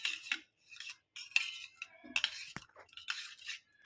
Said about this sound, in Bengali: মধুটাকে একটু ভালো করে মিশিয়ে